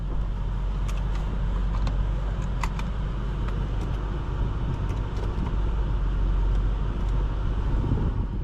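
A 2019 Maserati Levante Trofeo SUV with a 590 hp engine drives on the road, giving a steady, continuous low rumble of engine and tyre noise with faint rattles, close and even throughout, no talk.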